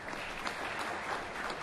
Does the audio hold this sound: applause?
yes